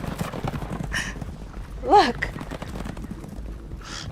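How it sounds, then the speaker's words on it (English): Horses' hooves clip-clop in a steady patter under quiet voices, with a brief louder call in the middle. "Horses."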